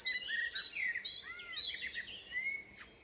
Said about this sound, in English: There's a blackbird singing right behind me here.